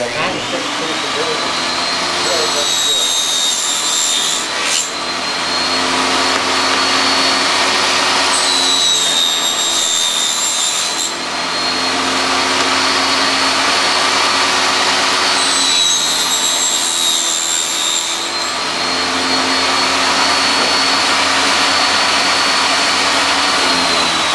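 A saw fitted with a 96-tooth blade cuts steadily, a loud continuous whining drone with high harmonic tones that lift and dip as several cuts are made, nearly unbroken across the whole stretch.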